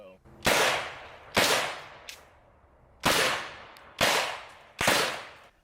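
Five sharp revolver shots fired in quick fanning style, each a loud crack with a short ringing tail, spaced roughly a second apart outdoors, with a softer click between the second and third shots.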